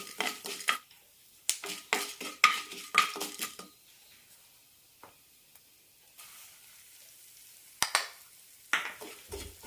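Moong dal and chana dal roasting in a pan with semolina being added, stirred with a utensil: bursts of scraping and clinking against the pan, soft sizzle between, several clustered strokes early then sparse taps later, no talk.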